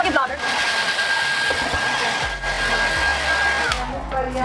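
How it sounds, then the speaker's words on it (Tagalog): A hair dryer blows a steady, loud whoosh while damp hair is dried partway before a keratin smoothing treatment, its hum running through the whole stretch with shifting tone as it moves. "Okay, a blower."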